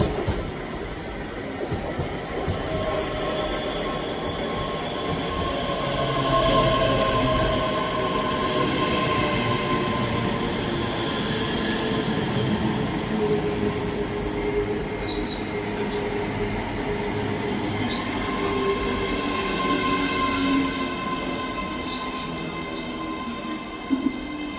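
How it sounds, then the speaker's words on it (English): A ScotRail Class 385 electric train on a Dunblane to Edinburgh Waverley service pulls into Edinburgh Haymarket station, a steady close rumble of wheels and motors with faint squeals, sustained throughout without talk. "Arriving in now is the 1251 Scotrail service from Dunblane to Edinburgh"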